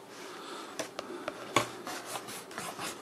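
Soft scratching and rubbing of a small blue pencil on paper in short strokes, with a few light taps, close up and quiet.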